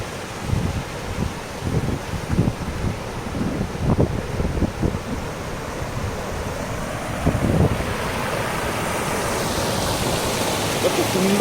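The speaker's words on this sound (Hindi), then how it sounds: "झरणाटी बही चली।" Daringbadi waterfall flows, a broad, constant roar of falling water mixed with wind buffeting, and a voice briefly heard over it.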